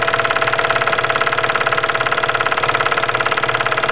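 A PM Research generator engine runs under increasing electrical load, giving a close, loud, rapid and even mechanical chugging with a steady pulse throughout.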